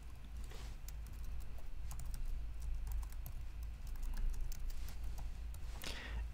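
Computer keyboard being typed on while entering a filter name in analytics software, making faint, close, irregular clicks over a low steady hum, with no talking.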